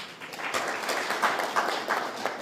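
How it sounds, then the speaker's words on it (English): An audience at an Ohangwena Region state-of-the-region address breaks into applause, a dense, continuous patter of many hands clapping at an even level. "This deserves a round of applause."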